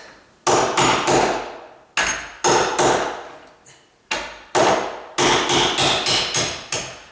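A hammer taps a nail set against a door hinge pin, sharp metallic strikes in quick clusters of two to five blows separated by short pauses, close and loud with no talk.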